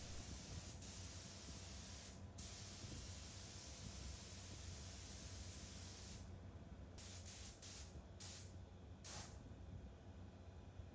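A spray gun lays oil-based paint onto a metal table base in a continuous, airy hiss, broken by a few short pauses near the end as the trigger is released and pressed again.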